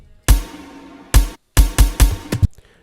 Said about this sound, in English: I had to break down the drums and then the impact sound just to create that effect